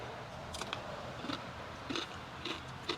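Crispy bacon cooked outdoors on a Coleman Triton camping stove is eaten, faint crunchy bites and chewing repeating irregularly at close range.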